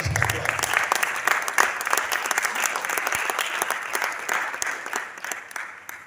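An audience at a medical school graduating class event claps, a dense, uneven patter of many hands with sharper individual claps standing out, fading slightly toward the end.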